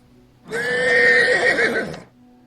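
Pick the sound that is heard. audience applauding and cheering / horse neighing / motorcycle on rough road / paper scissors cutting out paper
horse neighing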